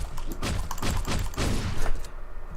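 Enemy gunfire in Hotline Miami, a burst of several rapid shots thudding at an uneven rhythm and loud and close across the whole moment, with no talk over it.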